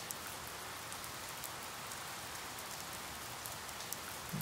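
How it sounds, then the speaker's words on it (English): Looped recording of steady rain, an even broadband hiss of drops pattering on a surface, constant and fairly quiet throughout with no voices. "So right here I've got a loop of rain"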